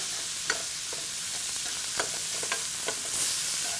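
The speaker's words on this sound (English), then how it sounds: "at the same time that this lamb is cooking, I'm going to add some onions to the pan, and we'll cook those until they're translucent" Minced lamb and onions frying in a pan, a quiet continuous sizzle broken by a few sharp scrapes and clicks of stirring, with no talk.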